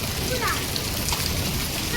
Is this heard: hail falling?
yes